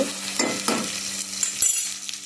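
Spices and black pepper sizzle in hot oil in a pan for a Mangalore-style surmai fish curry. The frying crackles up close, broken by a few short scraping stirs.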